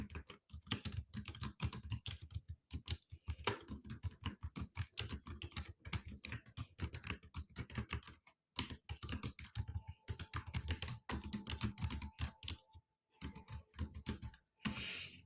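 Fast, steady computer-keyboard typing fills the quiet room, dense runs of close clicks broken by a few short pauses, continuing for about fifteen seconds without speech.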